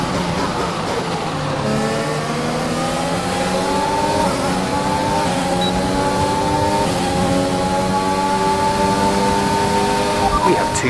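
A Formula 1 race car engine in an F1 video game on the final lap, a loud continuous high-revving whine with rising and falling pitch sweeps as gears shift.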